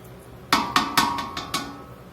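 A spoon stirs hamburger soup in a cooking pot, knocking against the metal in five sharp, ringing clinks spaced unevenly over about a second, close and fairly loud against a quiet background.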